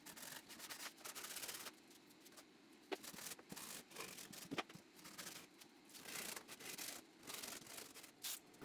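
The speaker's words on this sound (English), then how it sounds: "I wanted to give all the edges a quick sanding" Sandpaper rubbed by hand along the edges of wooden pieces, a soft steady scratching in short repeated strokes, close and quiet with no talk.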